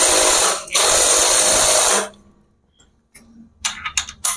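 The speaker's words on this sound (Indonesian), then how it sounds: "sekarang kita kencangkan, kita pakai impact saja biar mudah pekerjaan" Impact wrench tightening the clutch nut on an automatic scooter, one short loud burst, a brief stop, then a longer whirring burst, followed by quieter clinks of parts being handled.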